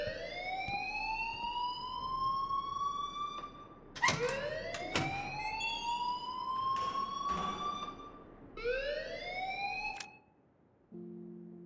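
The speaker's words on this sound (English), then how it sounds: "please turn off that alarm since that's your job" A fire alarm in the video game Life Is Strange wails in repeated rising sweeps, loud and electronic, each tone climbing then cutting off before starting again, ending abruptly with a brief low tone.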